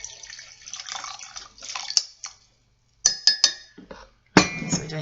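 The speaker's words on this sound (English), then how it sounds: "Let's rinse that out first." Tea cup being rinsed out with water: splashing and running water come in short bursts, with sharp clinks of the cup against a hard surface between them, nearby and without talking.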